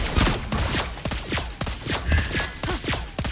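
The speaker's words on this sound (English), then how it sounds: "Our turret has been destroyed." Rapid repeated impacts and firing bursts in Mobile Legends as a turret comes under attack and is destroyed, a steady barrage of hits with no voices.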